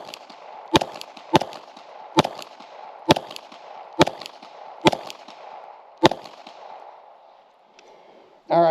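A string of seven sharp rifle shots at a target range, spaced roughly a second apart and carried on a windy background, the series ending in a brief clatter; the rifle wears a Granite MOS optic.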